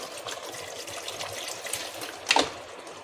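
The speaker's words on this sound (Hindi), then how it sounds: "आप अपने हिसाब से पानी डाल दीजिएगा" Water poured into a pot of arvi gosht, a steady liquid pour with a brief louder splash near the end, close by.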